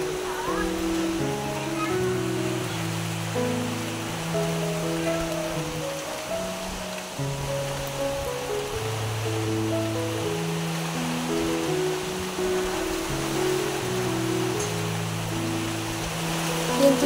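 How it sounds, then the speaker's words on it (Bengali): Strong gusty wind roaring through a rainstorm, a broad continuous rushing that swells and surges for the whole stretch, loud and unbroken, with tonal music-like sounds layered over it. "বাতাসের শব্দটা প্রচণ্ড"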